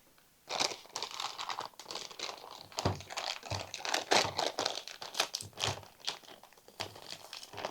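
Packaging around a graphics card being pulled open, with repeated crinkling and rustling of plastic and paper plus occasional thunks, close and continuous for several seconds.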